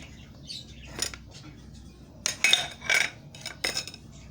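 Egg yolks are mixed into butter in a bowl, with a utensil clinking and scraping against the dish in irregular bursts, close by in a quiet kitchen.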